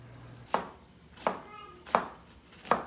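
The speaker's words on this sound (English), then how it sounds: "the key to not crying while cutting onions is having a sharp knife" A sharp knife chops onions on a cutting board in four crisp, evenly spaced strokes, close and distinct, with no talking.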